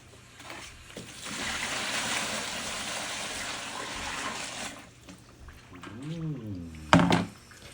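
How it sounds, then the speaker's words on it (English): Clean water runs over a laser cutter's honeycomb bed in a steady, close rush for several seconds, then tapers off into quieter splashes and a brief knock. "rinse the honeycomb bed a few times with clean water"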